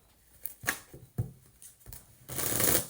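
Tarot-style cards being shuffled by hand for a reading, several quick riffling bursts and taps ending in a longer dense flutter, close and clear with no talk.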